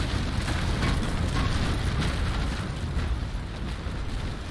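Ship cannons fire a broadside in the age-of-sail naval battle game Naval Action, a dense rolling roar of overlapping booms that stays loud for several seconds before easing slightly.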